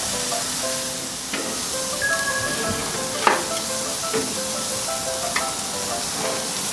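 Chimichurri steak sizzles steadily in a hot pan while cooking for fajitas, a loud continuous frying hiss with occasional pops and sharp crackles.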